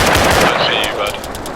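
Rapid bursts of machine gun fire in a military video game, loud and close, rattling in quick repeated cracks that thin out toward the end.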